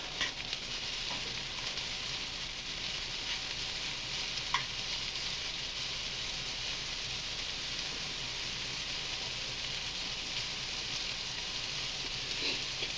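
Vegetables fry in a generous amount of olive oil in a pan, a steady close sizzle with occasional crackles and pops running throughout.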